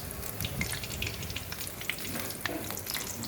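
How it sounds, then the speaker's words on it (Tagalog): Tilapia frying in hot oil, a steady dense sizzle with scattered pops and crackles, loud and close throughout with no talk. "Ito na po yung pritong tilapia. Luto na po siya."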